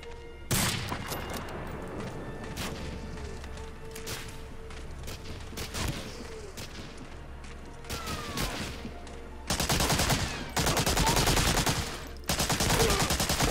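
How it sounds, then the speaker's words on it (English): MG42 machine gun fire in the game Medal of Honor: Allied Assault, with scattered shots and mechanical clatter building to long, loud, rapid bursts near the end. "There's another MG42."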